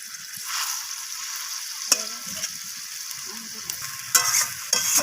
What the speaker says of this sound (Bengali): দেখুন মাছটা গ্রেভির সাথে একদম ফুটছে